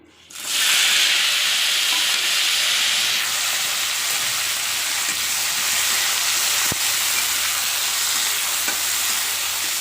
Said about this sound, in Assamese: এতিয়া মই কেৰাহীত তেলখিনি গৰম হ'বলৈ দিছো আৰু পটলখিনি একেলগে গুটিখিনি বহাই দিম